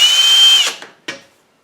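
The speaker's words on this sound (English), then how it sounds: "Drill a hole." A power drill whirs steadily at high speed for over half a second, then winds down, followed by two short bursts of the motor before it falls silent.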